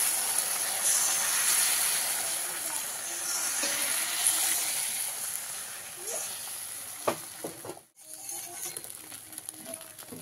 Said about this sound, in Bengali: এইভাবে ডিমটাকে আমি ভেজে নেব